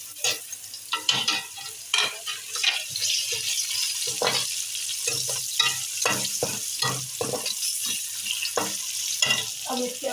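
Chillies and masala spices sizzle in hot oil for a Pakistani chickpea rice dish, a steady frying hiss broken by repeated sharp scraping stirs throughout, close and fairly loud with no talking.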